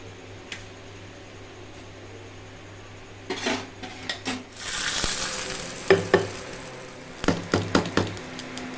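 Rava dosa batter is poured and fried on a hot tawa, with a soft steady sizzle under repeated scraping, knocking and clinking of a metal utensil against the pan, close and without talk.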